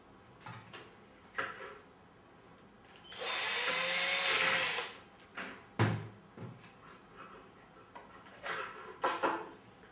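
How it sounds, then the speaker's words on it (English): A power drill whines in one bright burst of a second or two, drilling a hole in a clamped ping pong ball, surrounded by quiet clicks and handling noises. "Whilst you carefully drill a hole."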